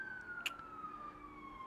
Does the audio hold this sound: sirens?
yes